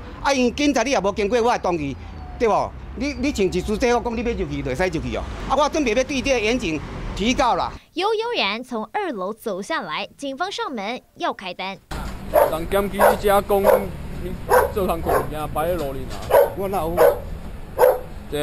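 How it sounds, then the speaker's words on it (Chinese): A dog barks repeatedly at a house, sharp barks and yips scattered through the scene under news narration and people talking. "狗在叫啊"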